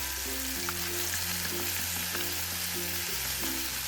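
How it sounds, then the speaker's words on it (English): Steady, close sizzling of chicken frying in a pan for spicy Korean chicken, with a continuous hiss under a low hum and occasional light clinks. "Listen to that sizzle, that's the flavor sealing in."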